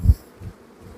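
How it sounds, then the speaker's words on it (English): Honeybees buzz around an opened hive during an inspection, a brief low drone that swells loudly up close at the start, then hums on more faintly in uneven pulses. "I think there might be just 3 or 4 bees that are just particularly trying to sting me"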